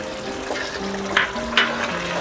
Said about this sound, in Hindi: अब हम इसको साथ साथ भुनेंगे, चम्मच चलाएंगे, नीचे लग ना जाए।